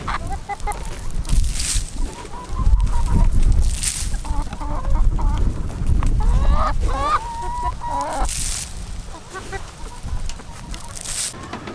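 Backyard chickens cluck and squawk nearby in a steady mix of short calls, with a few louder honking cries standing out over rustling.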